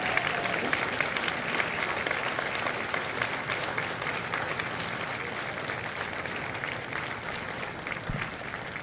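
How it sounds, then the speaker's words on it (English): An audience at a Marine Corps Recruit Depo graduation for Delta Company applauds Marine veterans in steady, dense clapping that holds at an even level throughout, with no voices over it. "Ladies and gentlemen, a round of applause for their dedicated service to Corps and country."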